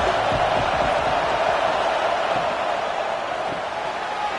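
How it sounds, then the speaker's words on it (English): Football crowd at a Stallions vs Jetsetters game rising as the defense holds in the red zone, a steady broad roar that stays loud throughout. "the crowd coming to life here, trying to help this defense down in the red zone"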